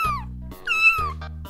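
A kitten meows twice, each meow a clear, high, rising-and-falling cry that is close and fairly loud, separated by a brief pause and heard over a low steady hum.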